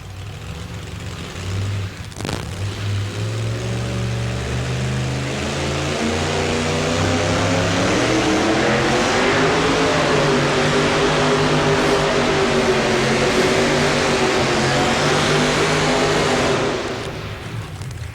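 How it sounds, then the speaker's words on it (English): An old Ford two-wheel-drive pulling truck at a 1992 NFMS truck pull in Louisville, Kentucky, its engine building into a loud, sustained roar that holds steady for most of the run before easing off near the end, with no talk over it. "Nice looking old Ford right there. Had a good run going."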